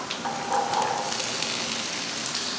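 A big onion with curry leaves, dried red chillies and spices fries in a pan for a masala sundal, giving a steady soft sizzle without talk.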